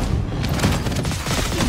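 Explosion of a destroyed turret in the mobile battle game Honor of Kings, a dense run of booming, thudding blasts and crackling impacts over busy game noise, loud and continuous for under two seconds.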